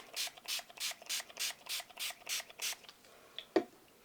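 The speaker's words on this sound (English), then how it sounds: "I think I want to spray the paints a little bit" Rhythmic bursts of a spray bottle misting watercolor paints, about nine quick pumps in a steady beat, followed by a couple of faint clicks in a quiet room.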